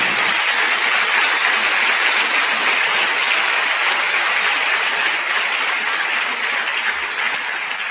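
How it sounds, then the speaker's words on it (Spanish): Church congregation applauding during a Spanish-language sermon, a dense, steady wash of clapping that fills the whole stretch at a constant loud level with no voices on top. "¿Cuántos le dan un aplauso a Él?"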